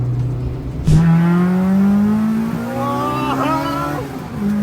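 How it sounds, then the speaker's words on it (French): A loud car engine revs up close with a rising, steadily climbing pitch, then settles and revs again, under a faint exclaiming voice. "C'est un putain de dragster, gros!"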